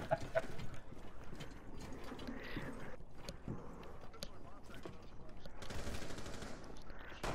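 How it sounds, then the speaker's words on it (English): Rapid gunfire crackling in a Power Rangers video game, with bursts of automatic shots mixed with game noise while players talk over it. "And you're getting shot at."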